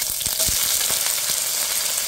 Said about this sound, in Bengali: একটা কড়াইতে তেল দিয়ে প্রথমে আমি রসুন দিয়ে দিয়েছি। রসুনটা ব্রাউন কালার হয়ে গেছে। এখন পেঁয়াজ আর আদা দিয়ে দিলাম, দিয়ে কিছুক্ষণ ভেজে নেই